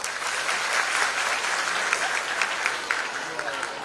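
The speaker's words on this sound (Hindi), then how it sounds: "Sir के लिए तालियां." A crowd applauds steadily and close by at a Mumbai inauguration of computer labs, welcoming the Additional Municipal Commissioner of MCGM. The dense, even clapping lasts the full few seconds without a break.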